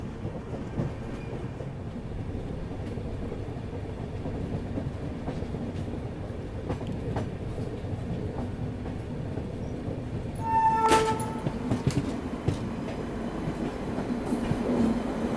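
Kalindi Express passenger train hauled by a Ghaziabad-based WAP-7 electric locomotive, a steady rolling rumble of coaches on rail with a brief horn-like tone partway through, continuous and fairly close, no talking.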